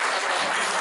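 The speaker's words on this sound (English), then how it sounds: "Do I get a bit of applause now?" Wedding guests applauding the best man at a reception, a dense, steady burst of clapping from a full room with no voices over it.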